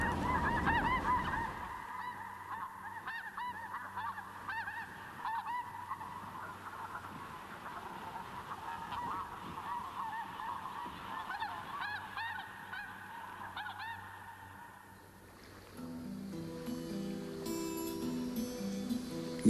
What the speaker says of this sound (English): the thousands of migratory snow geese feasting on the sandbanks. When they lift as one, the river itself seems to take flight.